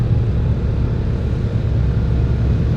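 On a night hill road to Yercaud, a van comes up fast from behind, heard as a loud, constant low rumble of engine and road noise with no gaps.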